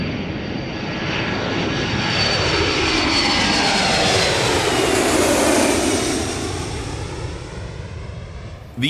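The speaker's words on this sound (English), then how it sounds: "The aircraft approach one another head-on." Military jet aircraft, a KC-135 Stratotanker and a P-8, are heard as a loud, continuous engine roar that builds, peaks and slowly recedes, with the pitch shifting as they pass.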